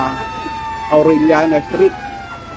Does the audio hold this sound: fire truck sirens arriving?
yes